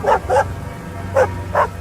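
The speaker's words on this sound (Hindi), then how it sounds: "क्यों भौंक रहे हो?" A dog barks four times in a horror story, two quick barks, a pause, then two more, each a close, mid-pitched woof over a low steady background.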